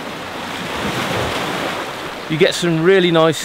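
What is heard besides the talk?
big boat-wake waves hitting rocks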